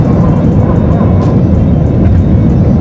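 An airplane in flight shortly after takeoff, heard from inside as a loud, steady, low cabin roar and rumble throughout, with faint intermittent clicks and no speech.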